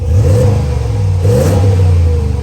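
A Ram Bighorn pickup truck's 5.7 liter Hemi eTorque V8 revs loudly and close, its deep engine note rising and falling in a steady surge across the short stretch with no talking.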